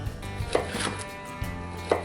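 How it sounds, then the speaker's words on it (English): A knife cuts zucchini into medium-thin slices on a cutting board, with two distinct chops about a second and a half apart, fairly close and clear, with no talking. "then I just try and cut them"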